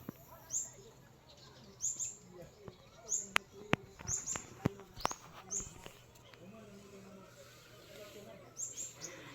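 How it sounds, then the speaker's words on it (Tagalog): Many birds chirp around a rural banana patch under cloudy skies: faint, distant short tweets recur every second or two, with a few sharper calls in the middle, over a quiet outdoor background. "Ang daming ibon."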